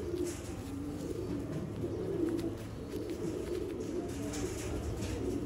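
Sialkoti breeder pigeons coo softly and steadily in a calm, low, rolling murmur, with several birds close by and no talk over them.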